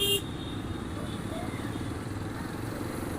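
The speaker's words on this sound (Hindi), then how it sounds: "यहाँ देखो आप कैसा ट्रैफिक लगा हुआ है" Steady road-traffic din at Geeta Bhawan crossing, a busy jammed intersection: continuous engine rumble from motorcycles and cars, with a brief loud burst at the very start and occasional faint horn toots mixed into the constant noise.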